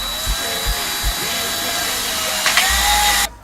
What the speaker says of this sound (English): I'm gonna flip it back over and ream this last one out